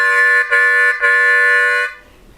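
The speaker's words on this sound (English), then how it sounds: "I'd suggest that you start with the 3/4 double stop, which will sound like this" A harmonica plays a sustained 3/4 draw double stop, two holes sounding together in a bright reedy chord, broken by two quick breath gaps before the tone stops cleanly; no voice.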